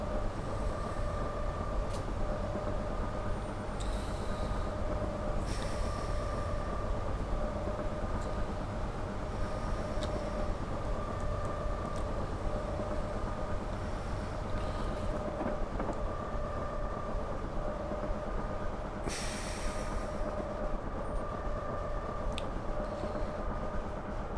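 A train runs steadily in the Train Simulator Classic game, a continuous loud rumble with a sustained tonal hum and occasional faint clicks and bumps over the track, no talking.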